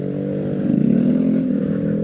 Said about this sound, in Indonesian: Ini juga nggak bisa kencang juga bawa motor